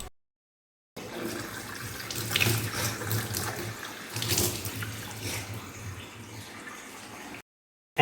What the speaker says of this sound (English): we wash the cotton in the beaker in running tap water.